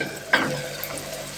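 Garlic and ginger frying in a pan for beef liver, a brief soft sizzle with a sudden scrape or stir partway through, close and without speech.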